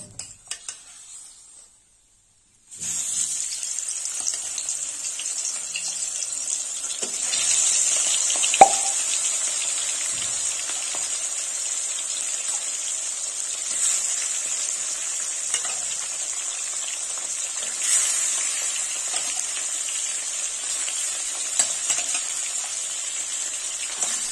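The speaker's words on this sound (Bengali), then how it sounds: "বাকি কাঁটাগুলো এবার ভেজে নেব।" After a quiet start, a steady sizzle of bhetki fish bones frying in oil sets in and continues throughout, bright and hissing with occasional soft pops.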